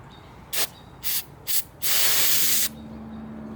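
Brake cleaner sprays onto a Coleman lantern generator in three short hissing bursts, followed by one longer, steady blast, all close and loud with no talking.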